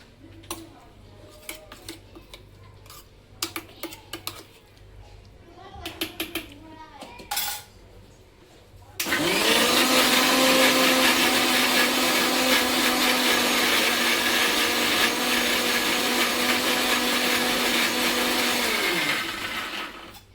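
An electric mixer grinding carrots into a fine paste: light clinks and handling sounds first, then a loud, steady whirring drone that runs for about ten seconds before stopping.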